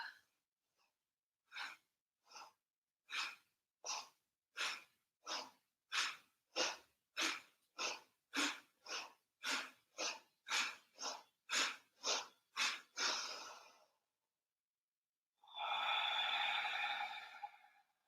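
Deep rhythmic breathing during a yoga warm-up, about twenty quick forceful breaths close to the mic and speeding up, then a pause and one long slow exhale, with no talk.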